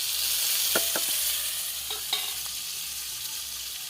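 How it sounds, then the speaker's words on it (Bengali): Potatoes sizzle and fry in oil with spice paste, a steady bright hiss broken by a few sharp clinks of a spoon against the pan, close up and with no talking. "আলু দিচ্ছি আলু"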